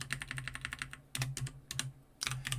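Code being typed on a computer keyboard, with quick, close clattering keystrokes in uneven bursts separated by short pauses.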